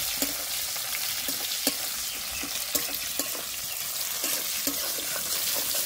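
Chopped onions fry in a pan with cumin and dried chilli for egg curry, a steady close hiss of sizzling oil with occasional light scraping and stirring taps throughout.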